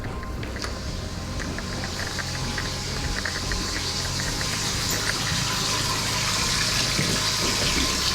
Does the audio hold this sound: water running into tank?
yes